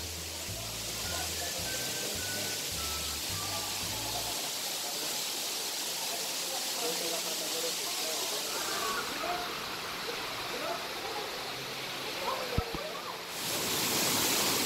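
A waterfall in Bali roars as steady, broadband rushing water, continuous and fairly close throughout, with a few faint low thumps early on and a brief knock near the end.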